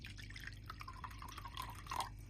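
Water trickles and drips faintly into a bowl of braised tofu sauce made with oyster sauce, dark soy sauce, sugar, salt, pepper and sesame oil, a short quiet pour close by.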